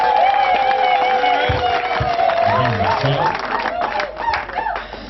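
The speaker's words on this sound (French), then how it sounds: "On peut les applaudir, s'il vous plaît." Guests applauding at a civil wedding ceremony, a loud crowd clapping and cheering with shouts, whoops and voices mixed in, sustained and close, thinning slightly toward the end.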